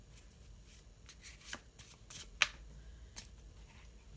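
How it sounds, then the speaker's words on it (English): A Faulkner Tarot deck in its black and white version is shuffled by hand, giving soft scattered riffles and taps, quiet and close with no talking. "I'm going to have a little shuffle"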